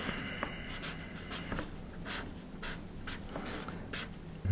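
A pen scratches across paper in short, quick strokes while a rocket is drawn by hand, close and fairly faint, ending in a brief louder knock.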